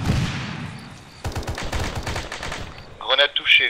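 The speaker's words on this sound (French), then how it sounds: "renouvelons le tir de destruction sur le blindé" Gunfire in the military shooter game ARMA 3, with bursts of rapid automatic shots. Sharper, louder single reports follow at the end, and a distant background rumble runs underneath.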